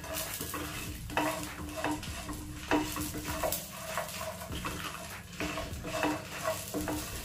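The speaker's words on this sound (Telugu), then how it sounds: "ఇలా అంతా ఒకసారి కలిపేసుకోవాలి." A spoon scrapes and stirs tamarind through a frying mixture in a pan, giving repeated rhythmic strokes of metal on metal over a soft, steady sizzle, close up and with no voices.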